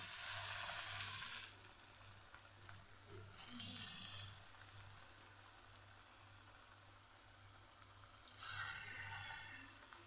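Farali bhajiya fritters sizzle steadily in hot oil, a close, continuous crackling frying sound with brief bursts as batter drops in, no talking over it.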